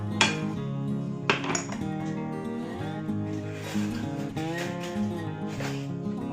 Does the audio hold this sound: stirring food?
yes